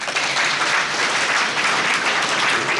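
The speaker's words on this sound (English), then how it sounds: "The team that worked on this, quickly, give them a clap." Audience applause at a Kenyan trade ministry event launching a business centre, a steady dense wash of clapping from many hands that holds loud and even throughout.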